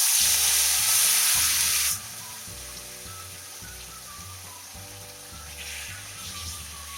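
Onion paste frying in hot oil with nigella seeds for a Bengali fish jhal: a loud hissing sizzle at first that settles into a quieter, steady crackle.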